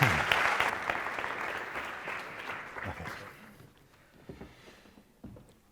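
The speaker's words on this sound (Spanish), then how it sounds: "un fuerte aplauso para nuestro siguiente protagonista" An audience applauds a speaker taking the stage at the Granada Innova talk. Loud, dense clapping fades over several seconds into a few scattered claps.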